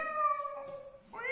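A person imitates a cat's meow, drawing out a sustained, wavering, nasal mew that dips and then rises again at the end. It is close and clear, with no other talk.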